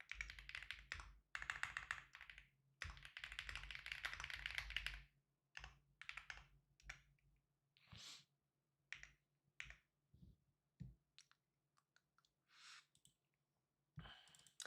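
Quiet computer keyboard typing, a dense burst of keystrokes followed by scattered single taps and short clusters with pauses between, close-miked and soft.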